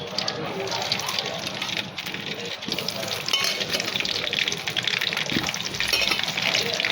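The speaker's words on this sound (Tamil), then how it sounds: "இப்போ வந்து கத்திரிக்காயை வதக்க போகிறோம்." Eggplant for kuzhambu sizzles in heated oil in a pan, a steady close crackle and hiss running throughout while a person talks over it.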